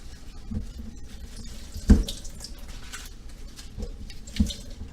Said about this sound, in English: I'm going to take a lot of these vegetables right here and just kind of rinse them off